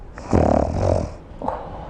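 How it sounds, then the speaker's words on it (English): A single drawn-out snore, a rough rattling inhale with a softer raspy tail, followed by a short breathy snort, close and fairly loud with no talking over it. "That sounded like a snore."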